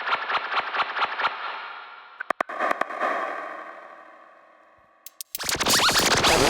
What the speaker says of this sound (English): So now we're getting massive reverb on that.